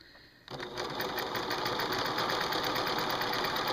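A sewing machine starts after a half-second pause and stitches light cotton quilt block pieces for an arrow block in a fast, even, continuous whir up close.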